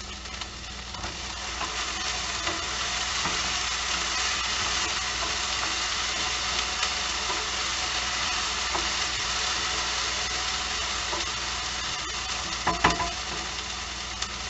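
Vegetables and mushrooms sizzle steadily in a stir fry pan, a continuous loud frying hiss filling the whole stretch with a few brief clicks and pops near the end, no talking.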